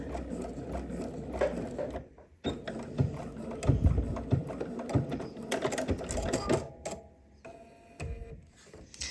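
A sewing machine fitted with a zipper foot stitches a swimsuit in uneven bursts, the needle's rapid mechanical chatter rising and dropping with short pauses, close and clear.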